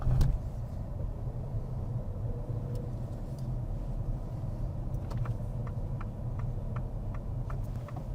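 A car moving along a road during a driving test: a steady low engine and road rumble heard from inside the cabin, with faint clicks toward the end and no talking.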